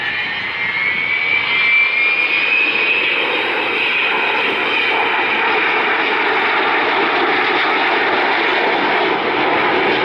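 An Avro Vulcan XH558 bomber with Bristol Olympus 101 engines roars overhead during an air display, a loud sustained jet howl with a rising whine that stays powerful throughout.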